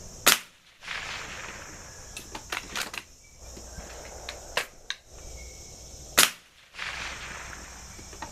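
An air rifle fires with dieseling, giving several sharp, loud cracks spaced apart, each one a short snapping report followed by quieter clicks and handling noises.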